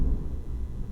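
Low, rolling thunder rumbles steadily and continuously, loud in the bass and close enough to fill the space, with no voices over it.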